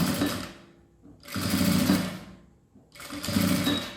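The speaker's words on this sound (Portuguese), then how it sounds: "beiradinha com beiradinha, vai costurando, vai trazendo tudo" A sewing machine stitches the fabric edges of a zippered toiletry bag in three loud, close bursts of rapid mechanical chatter separated by brief near-silent pauses.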